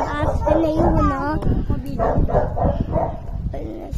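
A neighborhood dog barks and yips near a bicycle and sidecar in a residential estate, several short barks mixed under loud overlapping talk.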